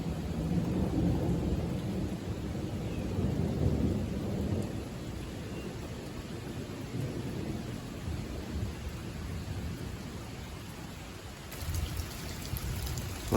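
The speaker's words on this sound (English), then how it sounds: "it's thundering right now" Thunder rumbles low and heavy over steady rain on an exposed mountain trail ridgeline, a long rolling roar that swells early then settles into a continuous wash of rainfall, with a brief louder patter near the end.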